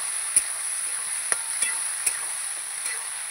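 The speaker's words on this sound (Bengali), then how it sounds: "একটু জল দিয়ে দেবো বাটি দিয়ে, ভালো করে একটু নেড়ে চেড়ে নেব" Spices with onion, cumin, ginger and garlic stirred with a splash of water in a cooking pan, a faint steady sizzle broken by a few sharp ladle taps against the pan.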